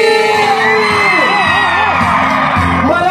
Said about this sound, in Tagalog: isang malakas na palakpakan na may kasamang sigawan!